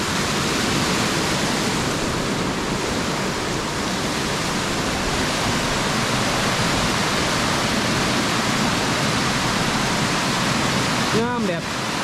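Loud, continuous roar of a natural waterfall in Utah heard up close, a dense steady rush with a brief faint voice near the end.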